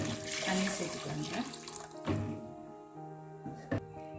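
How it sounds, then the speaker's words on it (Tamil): Water pours into a pot of thuthuvalai rasam during cooking, a steady splashing run with brief louder bursts, close by and heard alone. "இப்போது இதுக்கு வந்து தண்ணி சேர்த்துக்கலாங்க"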